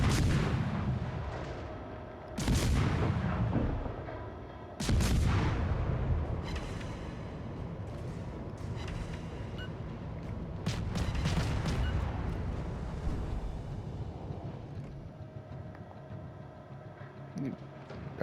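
Cruiser guns in the naval battle game World of Warships Legends, on the premium cruiser Mendez Nunez, booming in heavy salvos with long rumbling tails over continuous battle noise, with speech present.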